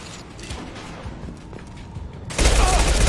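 Gunfire erupts in Mass Effect 2 during a fight with enemies. Quieter clanks and scattered shots lead into a loud, sustained burst of rapid fire that fills the final second.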